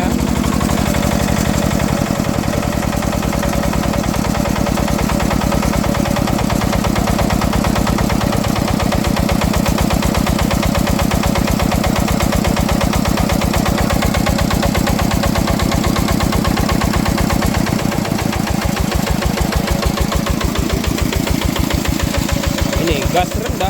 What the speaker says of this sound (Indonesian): Kita kurangi gas dulu ya, kita kasih idle.